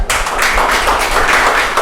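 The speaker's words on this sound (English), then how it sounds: "a big round of applause for Chanchal Das sir." Loud, dense applause from a crowd at a mathematics workshop in a college, continuous clapping filling the whole moment without pause.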